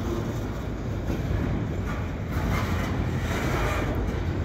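Double-stack freight cars being shoved off the main line into a storage yard, heard as a steady, continuous low rumble of rolling rail cars with wind noise across the microphone.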